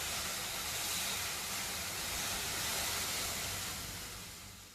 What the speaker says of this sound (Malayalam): ഞാൻ ഒരു അര ഗ്ലാസും കൂടി ഇതിൽ വെള്ളം എടുത്തിട്ട് ഒഴിച്ചു കൊടുക്കുന്നുണ്ട്.